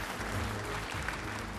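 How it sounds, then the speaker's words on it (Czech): Audience clapping at the Královna Ocel 2010 awards ceremony, a steady, fairly faint hall-wide patter of hands with a low rumble underneath, continuous throughout. "Takže pojďte, ještě jednou mu zatleskáme"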